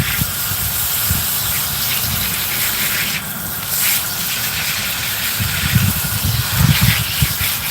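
Steady broadband spray of water from a hose rinsing indoor garden plants being moved outside, a continuous hiss with slight surges and low rumbles, fairly close and without talk.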